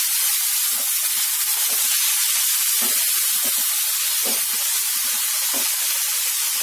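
Tomatoes added to onions already frying in a pan hiss and sizzle steadily throughout, a dense close crackle with scattered small pops and no talking.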